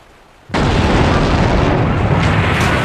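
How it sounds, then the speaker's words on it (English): Explosion of the battleship USS Maine in Havana Harbor, 1898: after a moment of quiet, a sudden massive blast erupts and sustains as a loud, dense roaring rumble that fills the rest of the moment. "the battleship USS Maine exploded in Havana Harbor"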